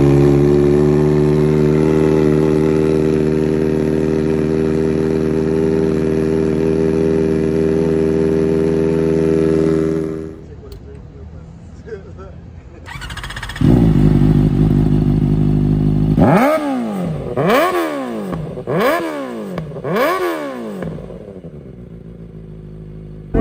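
A Kawasaki Ninja ZX4R fitted with a replica SC Project straight-pipe exhaust with no baffle fires up and idles with a loud, buzzy drone. After a short lull it restarts, then gives several sharp revs that rise and fall in quick succession.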